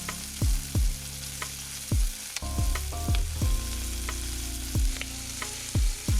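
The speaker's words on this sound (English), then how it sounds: "And we gonna go ahead and sear this turkey." Turkey breast sizzles skin side down in a hot pan, a steady frying hiss broken by repeated low thumps and clanks of the pan and utensils, close and without talk.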